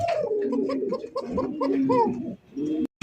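Arabian coca pigeons coo up close, a loud run of rolling, throaty coos repeated in quick pulses, briefly pausing near the end before resuming.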